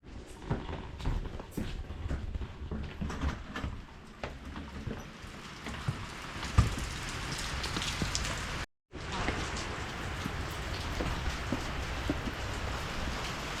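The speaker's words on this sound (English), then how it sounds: "Okay, so it's raining pretty hard," Heavy rain pours down during a storm, a dense steady hiss with scattered louder drops and splashes that runs throughout, broken only by a brief cut to silence partway through.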